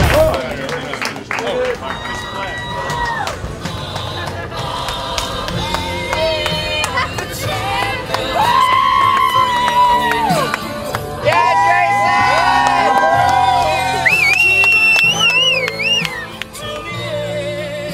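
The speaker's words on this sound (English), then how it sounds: "Another big round of applause to Jason." A lively gathering in the Alaska bush cheers and claps for a guest named Jason, loud whoops and shouts mixing with applause and excited voices, including children, over a busy, sustained crowd noise.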